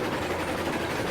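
A steam locomotive in the video game Railroads Online, labouring and bogging down on a 3% grade toward a logging camp, with a steady heavy chugging rumble and hiss throughout, close and continuous.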